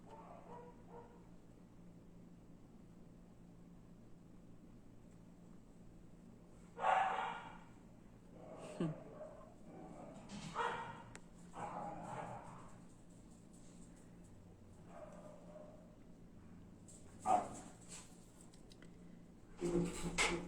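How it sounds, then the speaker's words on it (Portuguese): Dogs bark in scattered bursts, some nearby and some farther off, with quiet gaps between outbursts over a low background hum. "Considerem o barulho aí que os cachorros hoje estão que estão."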